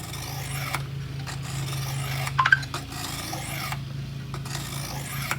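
Knife blade drawn across a sharpening stone at a consistent angle, repeated rasping strokes in a steady rhythm, close and clear, with a low hum beneath and no talking.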